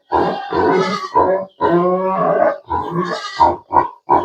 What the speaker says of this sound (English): That's why I have to feed the pigs as fast as possible, because they are loud and mad